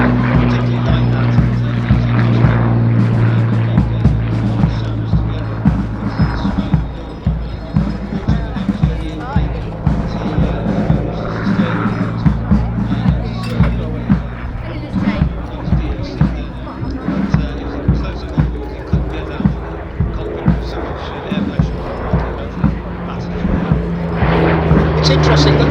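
Hawker Hurricane propeller fighter flying at the Little Gransden airshow, a steady droning engine hum with slowly shifting pitch running throughout, while a commentator talks over it continuously.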